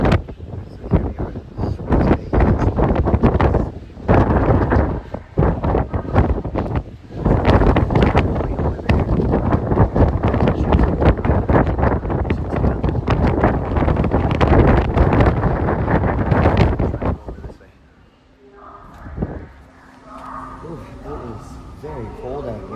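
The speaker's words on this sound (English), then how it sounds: "You hear that? It's so windy." Strong wind buffets the microphone on the deck of a ferry at Swartz Bay, BC, Canada, a loud continuous roar with gusty surges that drops away abruptly near the end, while people talk over it.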